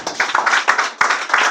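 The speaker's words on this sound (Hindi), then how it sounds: "जोरदार तालियां।" Loud clapping from gathered students at a monthly exam results and Class 10 award ceremony, quick rhythmic handclaps in pulses, near and full.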